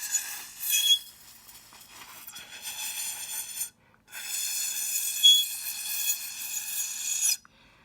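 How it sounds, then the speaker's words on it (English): Air is blown across the open end of a drinking straw like a flute, producing breathy, airy tones in sustained puffs with a short pause midway. It is close and fairly quiet. "Let me blow across the straw."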